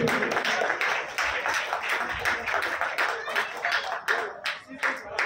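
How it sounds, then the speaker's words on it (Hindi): Audience clapping at a pharmacy college freshers party, dense hand claps sustained loudly across the whole stretch with crowd voices mixed underneath. "तो जोरदार तालियां हो जाए"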